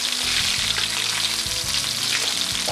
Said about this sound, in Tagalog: pritunin natin ito sa kaunting mantika